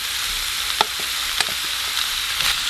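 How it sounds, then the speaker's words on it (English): Pork belly stir frying in a nonstick pan, a steady bright sizzle with faint pops and crackles scattered through, close and continuous with no talking. "we're gonna add in all of the pork belly here"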